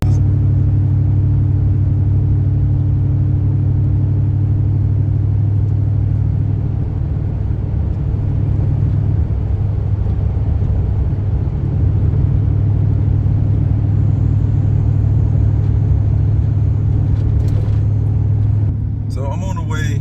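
Low, steady engine rumble and exhaust drone from a 2004 Dodge Ram 2500 pickup with a 5.7 Hemi, muffler deleted and dual exhaust, cruising along, constant and close, with a brief shift near the end.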